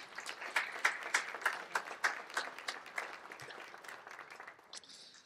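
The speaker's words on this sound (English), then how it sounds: "would you please join me in giving them all a round of applause" Applause from a modest group at an agriculture hall of fame banquet, rhythmic clapping building then thinning out and fading, heard at a slight distance.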